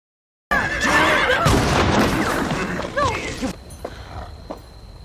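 A horse whinnies loudly with rising and falling neighs, amid a busy, chaotic scene of thuds and commotion, then the noise tails off into quieter rustling.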